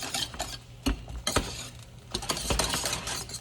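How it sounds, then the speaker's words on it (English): A whisk beats a small amount of chocolate soufflé mixture in a pan, with quick metallic scrapes and clinks against the sides in uneven bursts, close and clear, with no talk. "I'm gonna grab a whisk and whisk this up so we don't have any lumps"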